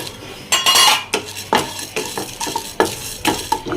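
Toor dal lentils roast in oil in a pan, heard as a run of sharp scraping and clattering strokes from a metal spoon against the pan, irregular and close, with a soft frying hiss between strokes.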